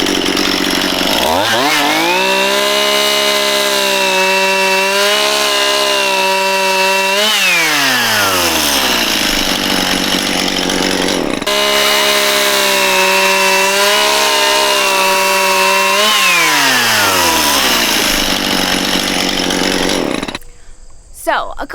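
Two Stihl chainsaws, a battery MSA 120c and a gas MS171 fitted with the same bar, cut wood one after the other, each a loud steady whine that bogs down mid-cut and revs back up, filling the space without talk.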